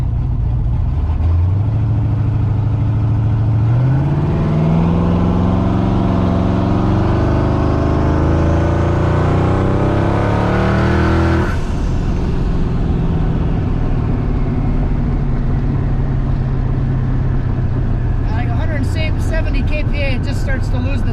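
Turbocharged car on a boost pull at 13 psi, the engine revving hard and climbing steadily in pitch to a peak, then dropping back after a shift, loud and close throughout with a brief rattle near the end.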